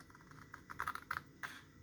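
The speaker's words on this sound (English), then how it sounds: "since this is a Christmas thing, I'm using my snowman scissors" Snowman-shaped scissors snip through a folded paper card along a fold line, a few quiet, close crisp cuts in short clusters.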